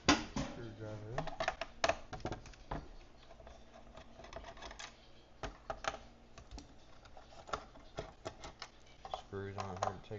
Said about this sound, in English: Screws aren't hard to take out, but they are torqued down, not loose.